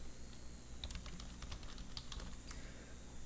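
Light, irregular keystrokes tap on a computer keyboard as text goes into a spreadsheet cell, soft clicks scattered over a quiet room hum with no speech.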